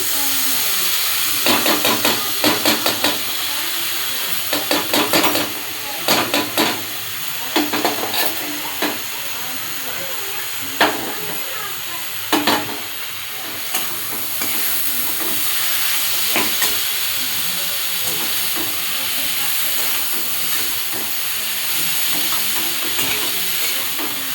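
Vegetables added to a frying pan and stirred, a constant loud sizzle broken by repeated scraping, clattering stirring strokes at irregular intervals, close by.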